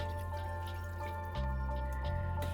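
Vegetable broth poured into a pan for a vegetarian beef-style stroganoff on low to medium heat, a steady liquid pour with a louder surge partway through, close and alone without talk.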